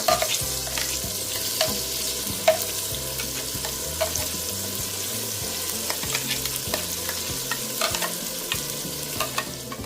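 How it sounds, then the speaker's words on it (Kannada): Ground masala fries in oil for a Mangalore-style green pomfret curry, giving a dense, close sizzle. Repeated stirring scrapes run through it, and no one speaks. "ಮಸಾಲ ಸರಿಯಾಗಿ ಎಣ್ಣೆಯಲ್ಲಿ ಫ್ರೈ ಆಗಬೇಕು."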